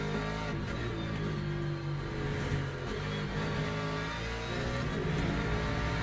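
Race car engines roar in the Le Mans Ultimate video game as several cars, including a Ford and LMP3 prototypes, run together at Le Mans. The engine drone is loud and continuous, with shifting revs, and no one speaks.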